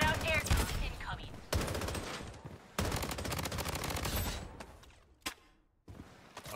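Bursts of automatic gunfire in the shooter game Blood Strike, loud and close, with dense rapid rattling broken by short pauses and sharp single reports, with game voice callouts mixed in.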